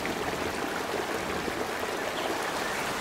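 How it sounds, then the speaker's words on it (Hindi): Floodwater rushing through a cartoon forest during heavy rain, a steady dense wash of flowing water that sounds close and continuous throughout, with no voices over it. "घोंसला बाढ़ की पानी में बह गया"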